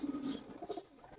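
An uncommon pigeon among fancy pigeons gives a soft, low, brief coo at the start, faint and close, followed by quiet rustling in the loft.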